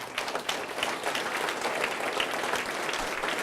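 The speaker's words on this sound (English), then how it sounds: "Please give them a round of applause." A city audience at a State of the City address in Casa Grande applauds staff, a steady wash of many hands clapping at moderate distance throughout.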